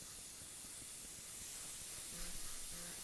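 Copic airbrush spraying ink onto a stamped card background, a steady soft airy hiss running close and even throughout, with a faint low hum beneath it.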